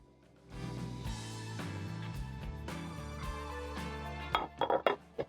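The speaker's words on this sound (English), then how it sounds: "very carefully, I'm going to drop in the potatoes" Potatoes dropped into a cooking pot for Kenyan chicken tumbukiza, landing as a quick cluster of clunks and clinks near the end over steady background music.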